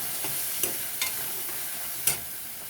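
Ground spices stir-fried in a hot pan for an egg curry, a steady sizzle broken by three or four scraping strokes of the spoon, with no voices.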